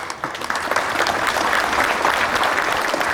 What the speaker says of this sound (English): I'd like to especially first to give a round of applause to young Ed Parker here